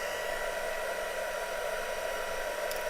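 A two-speed heat gun set on low heat blows a steady, even airy whoosh while warming embossing paste on a Christmas card, close and constant without pauses.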